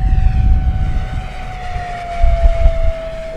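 An FMS P-47 Razorback RC model plane drones steadily at half throttle as it passes down a runway, its electric motor whine slowly dropping in pitch over rumbling wind noise.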